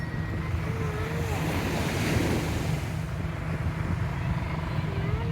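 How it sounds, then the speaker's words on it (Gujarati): Surf rolling onto Madhavpur beach near Porbandar, a continuous close wash of waves with wind rumble across the microphone, steady and fairly loud with no break. "આ છે માધવપુર બીચ."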